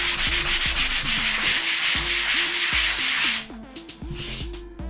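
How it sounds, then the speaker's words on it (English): Dried drywall joint compound is sanded by hand in fast, rhythmic back-and-forth rasping strokes, close and loud, before slowing to a few lighter scrapes and taps. "Lightly sand that, make a nice edge."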